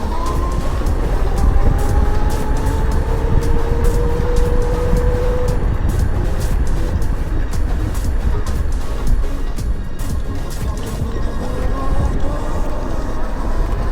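Amazon electric go kart fitted with an Electro & Co controller, driving with a continuous loud rumble and a rising then falling electric motor whine, heard close up with wind noise and no talking.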